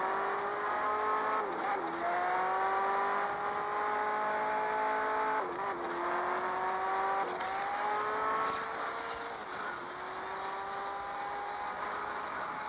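A BMW drifts in the racing game Asphalt 8, its engine revving in repeated rising sweeps that break at each gear change while tires squeal, steady and unaccompanied by voices.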